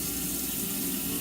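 Torrential rain pours down outside a house in summer, a brief, steady, dense hiss of falling water with no other sounds or voices.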